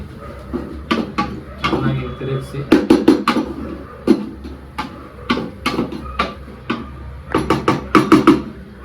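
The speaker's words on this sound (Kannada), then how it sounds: "ಈಗ ಇದನ್ನ ಚೆನ್ನಾಗಿ ತಿರುಗಿಸಿ" Chicken biryani being stirred in a pot, with repeated loud clanks and scrapes of a spoon against metal in an uneven rhythm, partly under talking.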